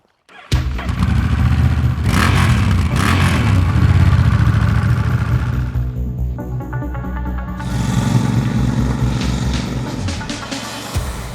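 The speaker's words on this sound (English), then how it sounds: "The parallel twin motor works perfectly in this format" A 2022 Honda CMX1100 parallel-twin motorcycle engine cranks and catches, then idles loudly before being revved up and down, rough and close, with no talking.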